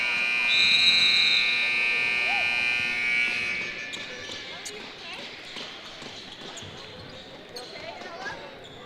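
An end-of-game buzzer at a women's college basketball game blares loudly for about three seconds, then cuts off, leaving crowd noise and squeaking shoes beneath a commentator's voice.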